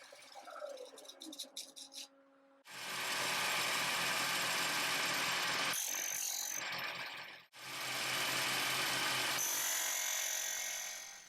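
A small belt sander runs on wood in two long sustained bursts, a steady loud whir with a brief stop between, after some lighter handling noise at the start.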